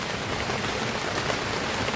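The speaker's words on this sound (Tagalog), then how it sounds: "Malakas na ulan" Heavy rain falls in a dense, even hiss of countless drops, loud and unbroken throughout, with no voices.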